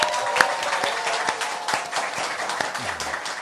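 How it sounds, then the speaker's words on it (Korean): A studio audience claps steadily at the opening of a Korean current-affairs talk show, a continuous, moderately close round of applause with a few louder individual claps standing out. "여러분의 힘찬 박수와 함께 시작하겠습니다"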